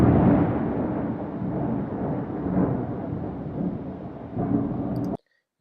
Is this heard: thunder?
yes